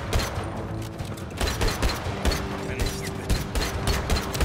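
Rapid gunfire from fast-firing weapons in the video game Just Cause 3, a dense continuous rattle of shots with near-constant loudness throughout, backed by a steady tonal hum of game audio.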